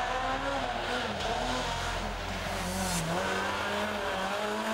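A rally car at the 2013 Rajd Świdnicki accelerates hard, its engine revving loud and close with rising pitch and a brief gear change, over a steady roar and road noise, with no talking.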